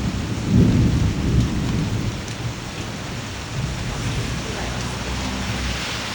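Steady, dense rain with a deep rumble of thunder rolling underneath, strongest near the start and then settling into a constant wash.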